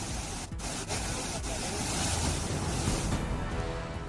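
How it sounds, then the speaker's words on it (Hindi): Bogata waterfall in Mulugu, Telangana, swollen by monsoon rain, pouring as a continuous broadband roar of rushing water that holds steady throughout. "मानसून ने बोगाता वाटरफॉल की खूबसूरती को और निखारा"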